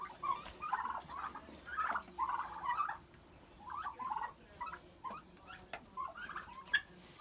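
Turkeys gobble and chatter in repeated bursts over a steady low background hum, fairly close, with no one talking.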